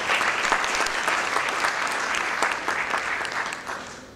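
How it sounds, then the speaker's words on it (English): An audience at an essay competition medal ceremony applauds warmly, a full, even burst of many hands clapping for about four seconds that eases off at the close. "Please, congratulations and a warm applause for them."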